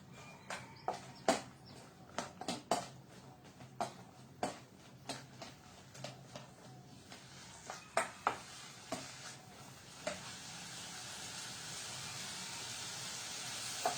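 Okra stir-fried with egg in a pan, giving a rising hiss of sizzling that grows steady and louder toward the end after water is added, preceded by a run of sharp ticking clicks and taps from utensils against the pan.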